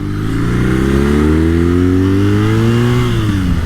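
A 2021 BMW R NineT motorcycle engine revs hard and loud from up close, its pitch climbing steadily for about three seconds before easing back down, with wind roar over the engine.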